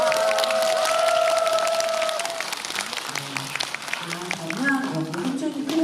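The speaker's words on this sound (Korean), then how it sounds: "박수로 한번 치고 가요." Audience applause at a film premiere mini-talk, a burst of clapping with light cheering under amplified voices and a tonal background, tapering as talk resumes.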